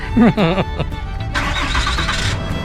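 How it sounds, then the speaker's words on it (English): A voice speaks briefly at the start, then a car engine cranks and catches, settling into a running hum that continues to the end. "Start the car."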